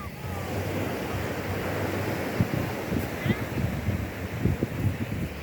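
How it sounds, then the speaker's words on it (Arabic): Continuous surf breaks on the shore at Targha beach, a near, full-bodied wash of waves with wind noise on the microphone and a few low thumps, while a voice is faintly heard beneath it. "كتسمعوا موج البحر."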